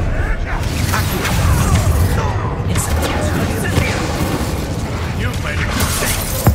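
The Accio summoning spell in Hogwarts Legacy makes a loud, dense whooshing rumble with mechanical clatter and a sharp pop near the end, while voices talk underneath.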